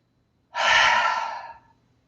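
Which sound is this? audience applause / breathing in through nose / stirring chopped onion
breathing in through nose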